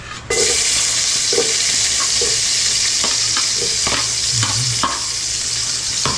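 Garlic dropped into hot oil in a frying pan on a home stove bursts into a loud, steady sizzle, with a few stirring scrapes and clinks over the frying.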